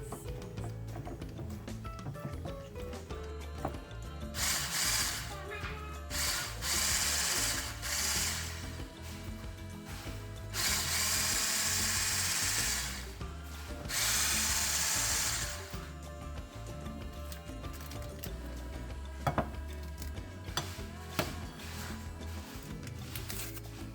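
An electric mixer beats chocolate cake batter after flour goes in, its motor whirring steadily in loud bursts with short pauses between them, plus scattered clatter near the bowl.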